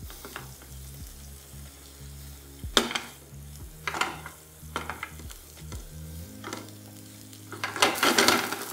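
Rice with black pepper powder and salt being stirred and fried in a pan for half rice, with a steady close sizzle and recurring scraping strokes of a spoon against the pan, no voices.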